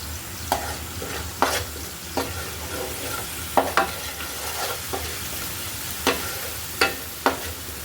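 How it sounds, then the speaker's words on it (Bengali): Spice paste for a fish curry is sautéed in a pan, a steady sizzle broken by about nine sharp spatula scrapes and taps at uneven intervals, close and fairly loud. "তার জন্য কিন্তু আমি মশলাটা একটু ভালো মতো কষিয়ে নিচ্ছি।"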